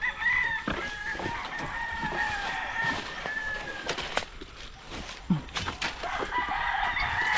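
Pet chickens cluck and call around a rural yard while a rooster crows, with scattered sharp knocks and rustles nearby.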